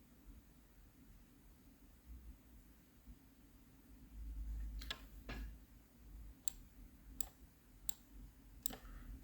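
Computer mouse clicks during software setup, a handful of faint, sharp single clicks spaced a second or so apart over a quiet room hiss and low rumble.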